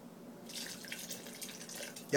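Liquid poured into a pot of chicken noodle soup, a steady splashing trickle starting after a brief pause and running for under two seconds in a quiet kitchen.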